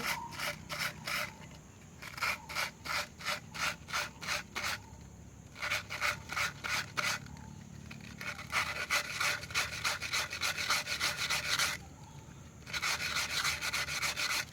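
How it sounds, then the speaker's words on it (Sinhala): Sandpaper rubs back and forth over the cut edge of a glass beer bottle, in quick rhythmic bursts of rasping strokes separated by short pauses, close and clear with no talk. "වැලි කඩදායෙන් පොඩ්ඩක් පොලිෂ් කර ගන්න ඕනේ මේ විදිහට"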